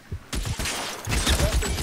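Gunfire crackles in the L.A. Noire shootout, with a rapid series of sharp shots and bursts following a quieter opening moment.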